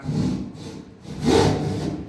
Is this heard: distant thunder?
no